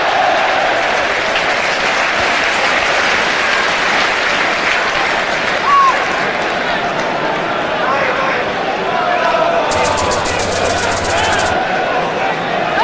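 Large football crowd at West Ham's Upton Park stadium during a 1994-95 Premier League match against Blackburn, applauding and roaring steadily throughout as a dense, continuous wash of clapping and cheering, with a brief burst of sharper noise late on.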